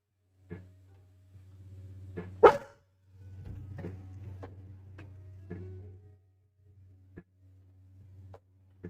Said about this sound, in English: I'm gonna get that dog. I'm gonna get him.